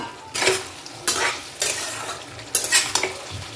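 Pointed gourd (potol) is being fried and stirred in a pan for patol posto: four scraping stirs of a utensil against the pan sound over a steady close sizzle.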